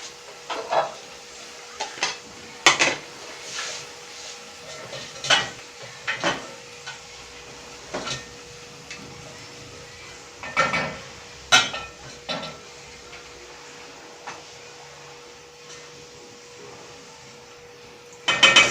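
Irregular clinks and scrapes of pots, plates and utensils handled while healthier homemade fried rice with carrots and eggs is served, sharp knocks spaced every second or two over a quiet hiss, with no talk.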